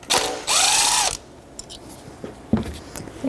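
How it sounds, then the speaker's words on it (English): A ratchet with a 10mm socket undoing an ignition coil mounting bolt on a 2006-2012 Toyota RAV4, two close bursts of rapid metallic clicking, then quiet handling clinks and a few later clicks. "10mm socket. Undo the mounting bolt."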